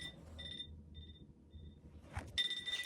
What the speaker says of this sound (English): That's the timer for my my previous attempt at the skit